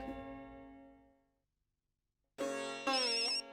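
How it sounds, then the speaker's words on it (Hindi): A phone ringtone plays through a speaker, a melodic tone followed by a pause, then another louder, brighter ring tone. "अभी मनी इसको गाली निकाला और मैटे का फोन आ गया"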